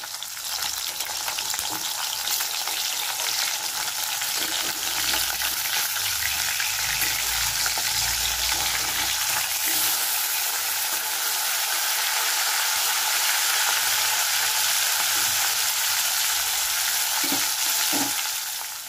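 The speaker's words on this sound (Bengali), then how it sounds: "আমার মাছটা ভাজা হয়ে গেল।" Loud, continuous sizzling of katla fish frying in hot oil, close up, with occasional stirring scrapes and no voices.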